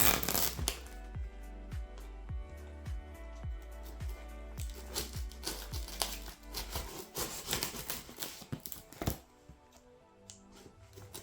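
A cardboard box holding an original Xbox console is opened by hand, a quiet run of rapid rhythmic rips and scrapes giving way to irregular rustling and crinkling, with no one speaking.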